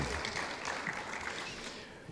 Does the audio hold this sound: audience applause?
yes